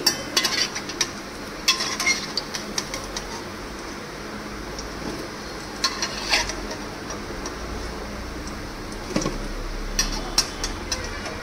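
Fried pieces, for a Janmashtami meal of shukto and chhana kofta curry, are lifted out of a frying pan. Light clinks and scrapes of a utensil sound against a steady sizzling background, close by and fairly quiet, with no talk.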